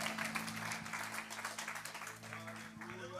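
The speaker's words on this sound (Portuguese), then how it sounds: "aplaudindo a Jesus, porque Ele é bom" A church congregation applauds together during a worship service, a steady wash of clapping running throughout with a low sustained tone and faint voices mixed underneath.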